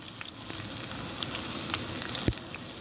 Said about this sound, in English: Look at that sizzle.